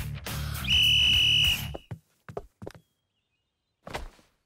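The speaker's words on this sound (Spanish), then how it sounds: "Cuando suene el silbato, correrán al centro del ring y lucharán." A shrill referee's whistle blown to start a cartoon wrestling match, one sustained loud blast of about a second over a busy background, then a few scattered thuds and knocks before a last short noise.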